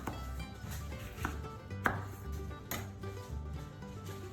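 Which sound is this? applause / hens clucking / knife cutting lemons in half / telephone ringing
knife cutting lemons in half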